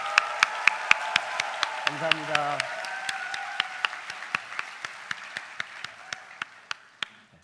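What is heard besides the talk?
audience applause and cheering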